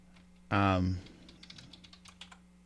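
A short, loud voiced sound opens the clip, then comes a run of light, quick clicks from a computer keyboard as a note is typed, faint and close.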